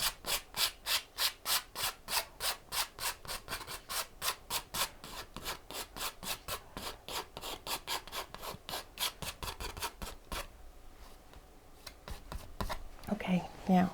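A palette knife scrapes oil paint across canvas in quick, regular back-and-forth strokes, about twenty close rasping passes that stop partway through, followed by quieter rustling and faint handling sounds.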